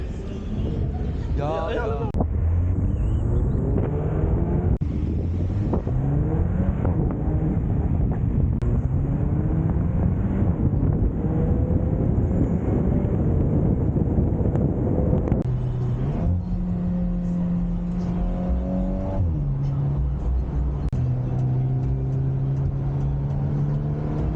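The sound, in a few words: car driving at high speed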